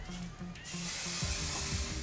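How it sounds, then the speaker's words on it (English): A short, close hairspray aerosol spray: a steady bright hiss that starts abruptly partway through and continues to the end over a faint background tone. "do not forget to spray with a really good strong hold hairspray"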